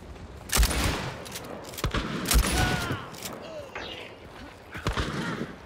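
Bursts of gunfire from the video game Hunt: a few loud sharp shots around the second and two-second marks, then scattered quieter shots, mixed with game effects and some talk.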